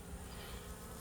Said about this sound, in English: I think this bee is not welcome here.